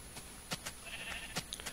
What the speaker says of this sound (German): Das ist praktisch das schwarze Schaf in der Herde.